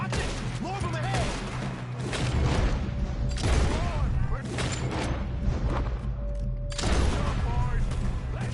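Gunfire during a shootout in the video game Red Dead Redemption 2, repeated loud shots and booms in bursts over game music, with characters shouting between volleys.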